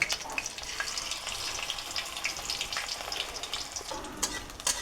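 Onion fritters deep frying in hot oil in a home kitchen, a steady bright sizzle and bubbling crackle running throughout with faint scraping from a utensil, close and alone without talk.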